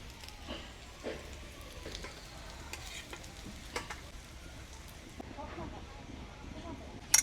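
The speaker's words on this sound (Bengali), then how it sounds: "আলুগুলোকে নুন হলুদ দিয়ে ভেজে নেব।" Potatoes frying in a pan with salt and turmeric, a soft, steady sizzle with light stirring scrapes throughout, fairly quiet and close, with a sharp clatter right at the end.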